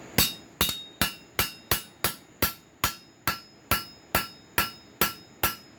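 Hammer planishing steel slot jaw tong blanks, about fifteen sharp, ringing metallic blows at a steady, unhurried pace, each with a brief decay, close up with no talking.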